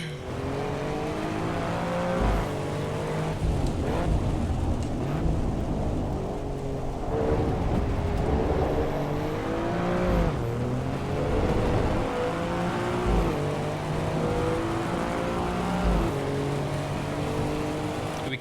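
In the video game AC EVO, a car engine revs and shifts through gears on a rainy track, rising and falling in repeated sweeps under a steady hiss of rain and spray.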